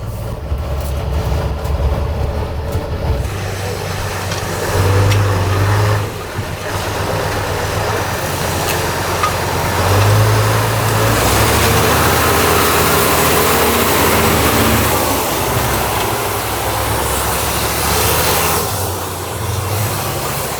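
A heavy ÖAF 20320 6x6 truck's V10 diesel, 1000 hp with four turbochargers, drones steadily at close range off-road, its low rumble swelling and easing as it drives on, with no talking over it.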